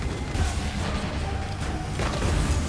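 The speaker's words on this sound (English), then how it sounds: "And then we get some explosions into this." Skill explosions in an action game with the Righteous Fire skill active make a dense, continuous barrage of low rumbling booms and crackling bursts that overlap with no gaps for under three seconds.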